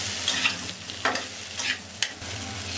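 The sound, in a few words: potatoes and tomato being stirred while frying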